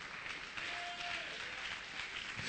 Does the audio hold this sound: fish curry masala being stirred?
no